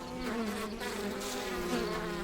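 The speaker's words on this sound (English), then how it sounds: "the bees are just sort of milling about on the bottom board here" Young honeybees mill about on the bottom board of a hive, making a close, continuous, even buzzing hum with no pauses.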